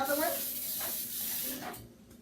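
Cooking spray hisses onto cake pans in a home kitchen while Key Lime Cake is prepared, as a few short close bursts of spray with voices talking around them.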